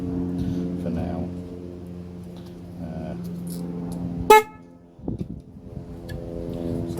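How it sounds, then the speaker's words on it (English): A single short, sharp blast from an air horn fitted to a Honda 250N SuperDream motorcycle sounds up close, with faint talk and some background murmur before and after it. "All I've got is a big air horn thingy."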